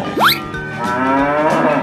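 A cow moos once, a single loud, drawn-out low call with a rising start, heard up close with no talk.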